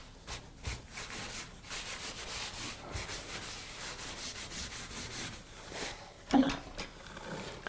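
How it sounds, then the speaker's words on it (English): Cloth or a rag rubs and wipes repeatedly across a painted canvas in an abstract painting, giving soft scratchy strokes with a sharper scrape near the end, faint and close. "I do a lot of wiping."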